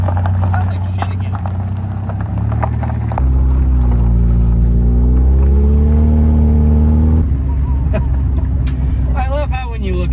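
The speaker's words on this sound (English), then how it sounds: "The Hot Boy Honda is ready for its test drive." Honda Integra DB1 on a test drive, its engine droning loudly inside the cabin with steady low harmonics that climb and fall as it revs and shifts, while voices talk over it.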